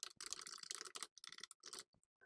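Quick, irregular bursts of computer keyboard clicks tap out in short runs, close and crisp, with brief pauses between them, while entering text into an Excel 2016 shape.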